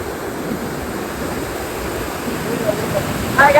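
Water gushes out of the opened Theroor dam near Kanyakumari as a steady, broad rushing roar, with brighter splashing that picks up near the end.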